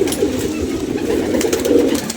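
Pigeons kept by a fancier coo steadily and close by, a continuous low throaty murmur filling the whole stretch, with faint bird chirps above it.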